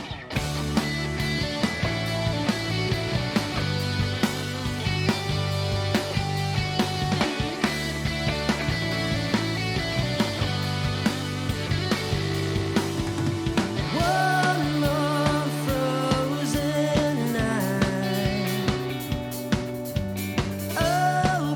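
A live band plays a song, a dense, loud full-band rock sound with steady drums, bass and guitars running continuously throughout, with a shift in the arrangement partway through.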